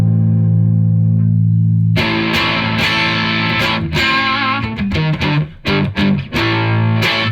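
Distorted electric guitar through single-coil pickups with a Marshall-like blues-breaker tone: a sustained low chord first, then loud, gritty strummed and picked notes with sharp attacks, no voices.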